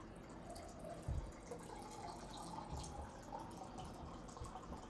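Water runs from a tap to fill a drink, a soft, continuous rushing and trickling heard faintly and steadily throughout, with a brief low bump partway through.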